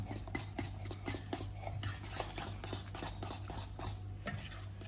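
Jamaican-style banana bread batter is mixed by hand in a bowl without a mixer, giving a quick run of repeated scraping and stirring strokes at close range.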